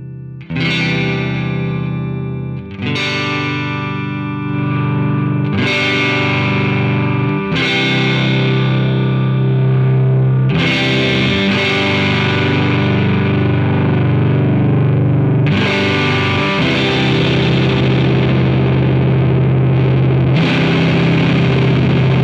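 Heavily distorted electric guitar chords through an Amplitube 5 amp simulator preamp, struck about seven times, each ringing out and decaying, with a chorus-like shimmer and no voices.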